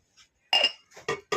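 A metal spoon clinks against a glass or dish as lemon juice is added: a few short, bright, quiet taps separated by near silence.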